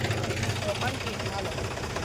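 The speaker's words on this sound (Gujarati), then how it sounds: "જો ટ્રેક્ટર ચાલુ છે" A tractor engine runs steadily outdoors with a low, even rumble and continuous vibration. It stays close and loud throughout, and people talk over it.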